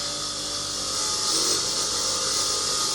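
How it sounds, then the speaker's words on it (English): Scrubbing rust off the metal of a Swedish M96 Carl Gustafs 6.5mm Mauser rifle makes a steady, close, raspy rubbing that holds an even, continuous texture with no pauses. "Take the rust out the corners."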